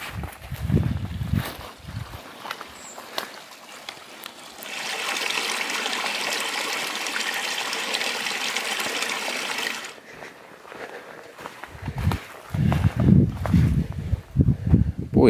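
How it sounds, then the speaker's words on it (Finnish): Littioja brook flowing behind a hut at the edge of the Lauhanvuori heathlands in autumn: a soft, steady rush of water rises for several seconds amid nearby rustling and low thumps of movement outdoors. "Siellä virtaa vesi."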